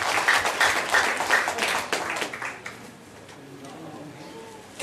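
An assembly in a church hall applauds, a brisk burst of many hands clapping that peaks early, then thins out and dies away into quiet room noise.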